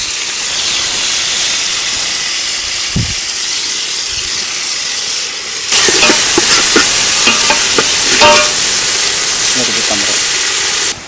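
Mustard seeds, cumin and curry leaves tempering in hot oil in a village kitchen, a steady loud hiss that suddenly jumps louder and crackles with sharp pops partway through, continuing to the end.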